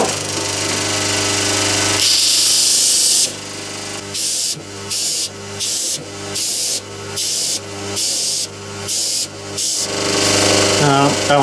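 Power sander works laser-cut, resin-filled maker plates held by a wooden handle, a loud close whine that first runs steadily, then cuts in and out in regular bursts of roughly one second.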